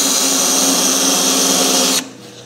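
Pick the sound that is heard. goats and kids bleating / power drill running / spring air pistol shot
power drill running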